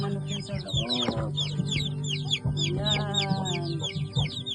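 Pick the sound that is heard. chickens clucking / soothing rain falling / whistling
chickens clucking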